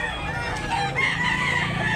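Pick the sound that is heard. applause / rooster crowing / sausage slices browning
rooster crowing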